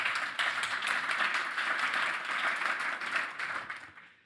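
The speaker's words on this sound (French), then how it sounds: "Vous pouvez encore une fois vous applaudir." Audience applause from the public at a French event on energy renovation training and recruitment, a dense steady clapping that carries for about four seconds before tapering off near the end.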